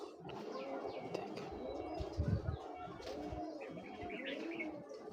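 Pigeons of fancy breeds coo softly in a loft, low burbling calls among light chirps and faint rustling, quiet and somewhat distant, with no clear speech over them.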